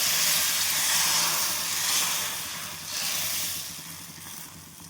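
Thin neer dosa batter made from coconut and rice hisses and sizzles steadily on a hot pan, a close, even frying noise that swells and eases slightly.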